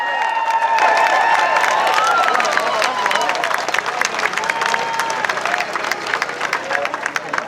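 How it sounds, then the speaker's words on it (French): Applause and cheering from a crowd at an outdoor Montreal demonstration at Parthenais, loud and sustained with scattered clapping, whistles and voices mixed through the whole stretch. "On l'applaudit très fort!"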